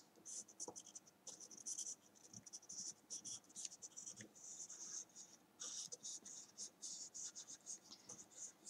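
A pencil sketches loose flowers on paper, with quiet scratchy strokes in quick repeated bursts, faint and close, while a person speaks softly.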